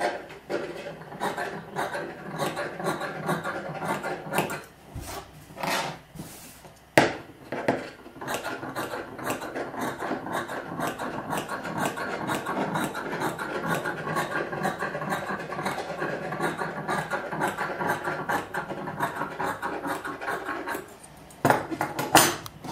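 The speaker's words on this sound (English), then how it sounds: "And then you clip the curves." Scissors snip repeatedly into curved fabric seam allowance, a rapid series of crisp, close clicks and light rasping cuts that run steadily for most of the stretch, with a few brief pauses and handling bumps.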